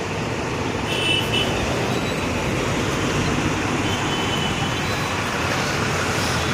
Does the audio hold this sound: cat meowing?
no